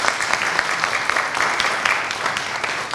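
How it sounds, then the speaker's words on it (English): A dense round of audience applause for the IFFSA team at a kick-off event, many hands clapping steadily and loudly throughout, close and unbroken with no talk over it. "Big round of applause for IFFSA."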